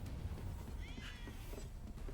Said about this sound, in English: We can't pet the giant cat, Nico.